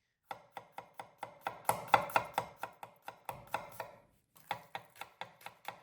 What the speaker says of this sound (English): slice the garlic thin